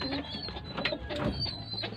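Soft, repeated cooing of a homing pigeon over a steady background hum, fairly close, with no talking.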